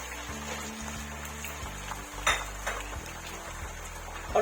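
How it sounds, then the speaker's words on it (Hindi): A kilo of chicken going into a biryani pot: soft clinks and knocks of utensils against the pot over a faint sizzle and low steady hum, quiet, with one brief louder clatter, no talk. "इसमें ये मैं डाल रही हूँ, ये 1 किलो चिकन है"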